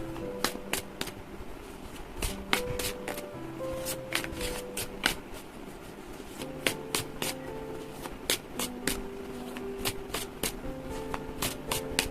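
A deck of tarot cards is shuffled by hand in close, quick bursts of riffling and snapping, separated by short pauses, with no voice.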